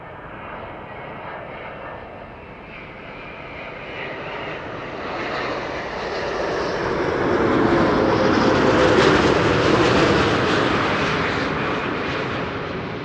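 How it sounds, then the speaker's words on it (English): A Delta Air Lines Airbus A330neo jet arriving at Amsterdam Schiphol after a flight from Salt Lake City, its engine roar swelling steadily as it approaches and passes, then easing slightly, with no voices. "Delta Airlines flight 56, arriving from Salt Lake City, 9 hours 22 minutes on the way. It's an A330neo"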